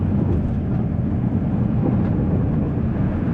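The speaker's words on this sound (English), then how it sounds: "the wind actually sounds like a freight train coming down the street" Strong gusting wind roars around a Tesla Cybertruck driving on a road, a loud, continuous low rumbling buffet with no breaks, like a heavy train passing, with no voices.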